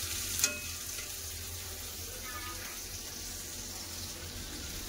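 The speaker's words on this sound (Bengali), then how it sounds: "দিয়ে আমি কাঁকরোলগুলো ভেজে নিচ্ছি।" Teasel gourd (kakrol) slices frying in hot oil in a home kitchen, giving a faint, steady sizzle throughout, with one brief clink near the start and no voices.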